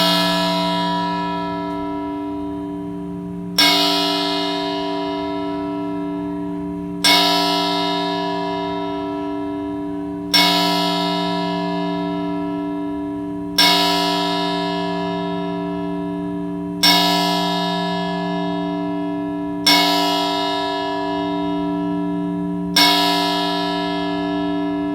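A clock tower bell in Holyoke striking twelve tolls loud and alone, with about eight slow, evenly spaced strikes roughly three seconds apart, each ringing out and decaying before the next.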